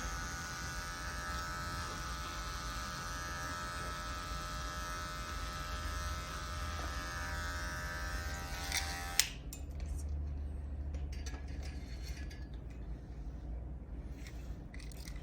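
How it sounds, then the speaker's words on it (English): An electric hair clipper buzzes steadily and close up while trimming a man's hair along the jawline in a Peaky Blinders-style cut, then cuts off abruptly, leaving quiet room noise. "Then again, turning my clipper to its side."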